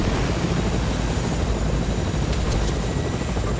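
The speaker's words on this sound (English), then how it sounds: "I hear a helicopter." A helicopter in a video game thrums constantly with a dense, loud rotor wash that fills the scene without pause and without any voices.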